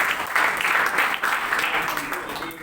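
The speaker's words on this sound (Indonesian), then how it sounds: "Kita tepuk tangan dulu untuk itu ya." An audience at a university gathering claps together in a dense, steady burst of applause that swells and gradually fades over a couple of seconds.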